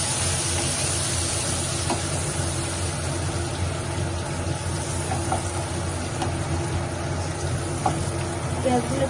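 Onions and two green chilies fry in a pan with a steady, close sizzle, accompanied by a low continuous hum in the background.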